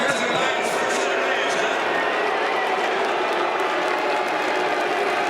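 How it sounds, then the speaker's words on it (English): A large crowd boos Mitt Romney, a dense, sustained roar of many voices that stays loud and steady throughout. "they did boo him"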